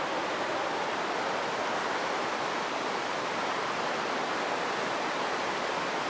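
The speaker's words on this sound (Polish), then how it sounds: "A woda tak płynie." Steady broadband rush of flowing river water in the Barycz valley, continuous and even throughout with no talk over it.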